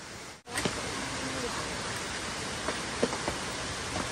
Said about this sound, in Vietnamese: hôm nay là mưa cả ngày đấy nhỉ ừ. mưa buồn quá ờ.